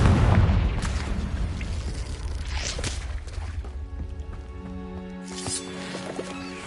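A Confringo fire spell in Hogwarts Legacy on PS5 erupts in a loud, rumbling fiery blast that swells at first and slowly decays, with crackling bursts and a fading tonal ring trailing off.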